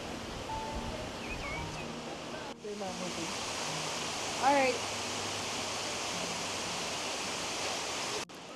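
A loud waterfall in the Wicklow Mountains of Ireland roars steadily up close, a dense continuous rush of falling water with brief voices over it.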